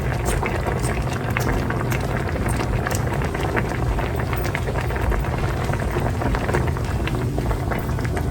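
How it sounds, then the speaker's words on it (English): Honey Dijon mustard sauce with chopped green onions simmering in a pan, a steady dense bubbling and crackling hiss that carries on evenly throughout, close and fairly loud, with no talking. "we're gonna let this simmer until this sauce gets to a thicker consistency"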